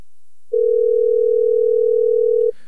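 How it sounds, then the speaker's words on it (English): A telephone ring tone on a call connecting, a single steady electronic tone lasting about two seconds, loud and clear against silence. "We're getting a lot of rings out of this."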